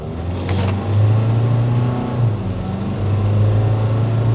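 A Nissan Caravan diesel turbo van accelerates hard from 20 km/h onto a bypass road, heard from inside as a loud, steady engine drone that climbs in pitch with a brief shift-like dip midway.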